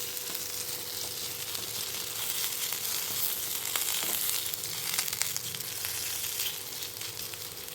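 Potato stirred into a frying samosa filling seasoned with chaat masala, a steady dense sizzle with faint scraping of the spoon throughout, close and even in level.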